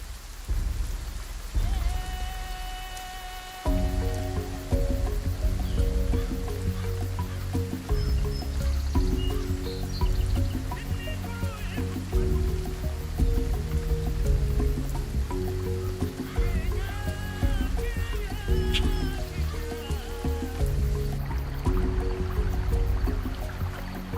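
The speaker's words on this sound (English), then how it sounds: "When the rain arrives, the parched plains come to life" Steady rainfall patters on open African plains, with low rumbles of thunder underneath and scattered drips throughout.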